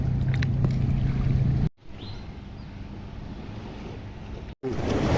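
Ocean waves at Pantai Cahaya beach in Port Dickson wash and rumble steadily, mixed with heavy wind buffeting the microphone, with abrupt cuts between segments and no talk.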